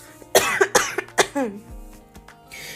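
A single person coughs several times in quick succession, close and loud, followed by a brief throat-clearing.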